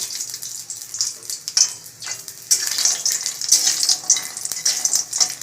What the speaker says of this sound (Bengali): তেলটা গরম হয়ে গেছে খুন্তিটা আমার একটু জল ছিল এই জন্য চটপট করে উঠেছে